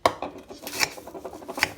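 A utensil mixes chocolate bavarois ingredients in a large bowl, making quick, close clinks and scrapes against the bowl in an uneven rhythm.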